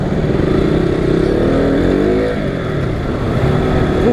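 A KTM Duke naked motorcycle engine runs loud and close, a steady throbbing idle with a rising and falling rev in the middle, no voices over it.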